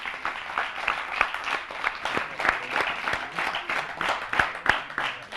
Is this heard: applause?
yes